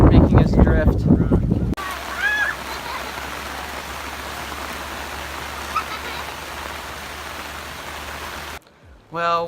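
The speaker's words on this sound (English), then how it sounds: "once again it's raining" Steady rain falling outdoors near a Wisconsin waterfall, a continuous hiss of drops heard after a brief spoken passage, with a few faint bird chirps over it and a voice returning at the end.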